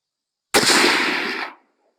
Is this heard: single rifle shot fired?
yes